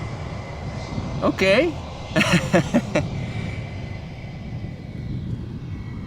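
An airliner engine at Amsterdam Schiphol airport gives a steady roar with a thin high whine, heard from a distance and continuing under brief talk nearby.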